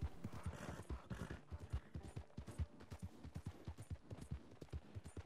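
Horse hooves clop steadily in Red Dead Redemption 2, a brisk repeating rhythm of close hoofbeats on a trail, with no talk over them.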